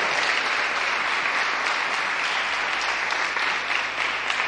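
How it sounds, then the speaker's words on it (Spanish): A church congregation applauds, a dense, sustained clapping that holds at an even level throughout with no pauses. "Le damos un aplauso al Rey."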